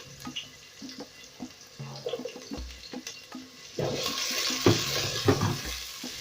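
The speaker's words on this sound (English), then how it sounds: "I'll go in with about 2 tablespoons of cooking oil. Then once this is also hot, I'll go in with my" Chopped onions sizzle and crackle in about two tablespoons of hot cooking oil in a single pot, with a steady frying hiss that swells louder partway through, plus scattered clinks of a utensil stirring nearby.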